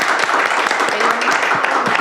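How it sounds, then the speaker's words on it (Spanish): Dense, close applause from a studio audience, a steady patter of many hands clapping at once through the whole stretch, with faint voices mixed in. "Un aplauso, por favor,"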